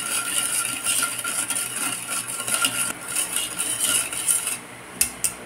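A dessert mixture stirred in a pot, a spoon scraping and clinking against the metal in a busy, uneven rhythm, close and fairly loud, with a couple of sharper taps near the end.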